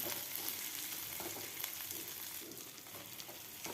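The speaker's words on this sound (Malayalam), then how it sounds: "ഒന്ന് ഇളക്കി കൊടുത്ത് ഉള്ളി ഒന്ന് വാടി വരുമ്പം പച്ചമുളകും കരിവേപ്പിലയും ചേർത്ത് കൊടുക്കാം" Onions, green chillies and curry leaves sizzle steadily in hot oil in a pan, a continuous close frying hiss with occasional faint stirring scrapes.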